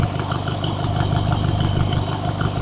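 A lawnmower engine fitted with an alternator belt runs steadily at idle, a close, even mechanical drone with a low rumbling pulse and no talking.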